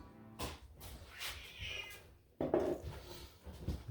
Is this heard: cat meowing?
yes